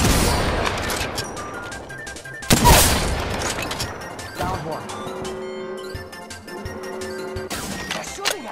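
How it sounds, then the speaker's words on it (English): Enemy gunfire rings out in Apex Legends: rapid shots and a heavy burst crack out amid explosions and impacts, loud and close at moments, with game music and effects layered under and between the shots. "They're shooting at me."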